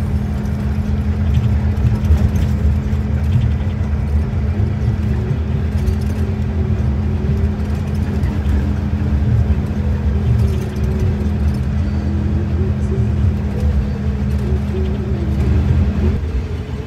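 A PO New Shantika bus rolls along a toll road near Karawang Timur, heard from inside as a steady, heavy engine and road drone with a constant low rumble and no break.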